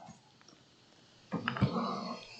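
A dog lying by a fire gives a soft, brief whimper and faint yips in the second half, after a quiet, near-silent start, close by and low in level.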